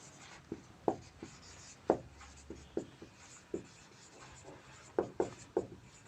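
Chalk or pen writing during a physics lesson, sparse scratchy strokes in irregular short bursts, fairly close and quiet against a hushed room.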